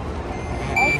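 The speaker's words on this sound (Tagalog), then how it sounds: "So, tumunog na ang ating alarm." Order-ready alarm at a fast-food restaurant counter, a short steady electronic beep tone near the end of a second of busy room noise and chatter.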